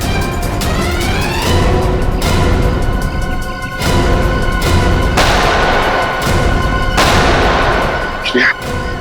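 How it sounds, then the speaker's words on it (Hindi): Gunfire in a tense police shootout, with repeated loud shots and crashing blasts ringing out in bursts over a continuous, dense, noisy background throughout. "वहां से चल रही है गोलियां।"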